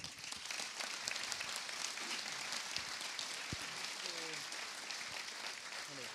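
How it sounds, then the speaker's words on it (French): Faint, distant applause from an audience at a medal ceremony for New Year's honours, a thin continuous patter of clapping with a few scattered voices and small noises mixed in. "Vous pouvez l'applaudir."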